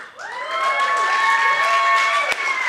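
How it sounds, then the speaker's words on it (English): A crowd at a poetry read-out event cheers and claps, with loud sustained whoops and shouts riding over scattered applause, holding for a couple of seconds before a sharp knock near the end. "Keep on clapping till she gets up here."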